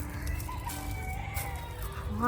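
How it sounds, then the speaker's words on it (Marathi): Chickens clucking in the yard of a rural property, a steady low, fairly quiet murmur of fowl sounds with no clear pauses. "इथे आहेत पक्षी."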